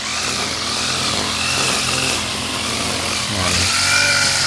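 A gas-powered grass cutter clearing overgrown ground on a farm runs continuously at high revs with a buzzing, droning whine, close and steady throughout.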